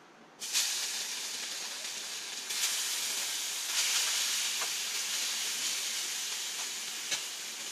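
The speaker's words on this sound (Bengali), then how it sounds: "মাছ এই যে এটাকে ভেজে নেব।" Rohu fish frying in a pan gives a loud, steady hiss of sizzling oil, with a few sharper crackles and brief surges in intensity throughout.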